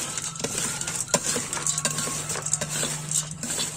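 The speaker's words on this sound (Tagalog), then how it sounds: "haluin natin ito hanggat talagang halo-halo na" Gamefowl feed of concentrate and pellets being stirred and mixed by hand, giving a continuous gritty rustle of dry grains with frequent sharp scraping clicks against the container.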